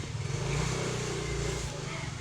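A motorcycle engine passes close by with a loud, steady low drone and a light rise in revs, heard alone with no speech.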